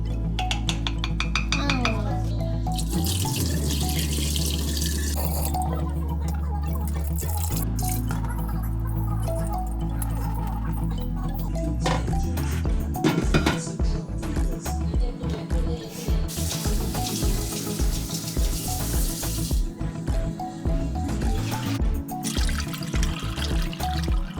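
Liquid is strained out of homemade cheese, dripping and trickling with occasional light clinks of utensils against a container, steady and close throughout.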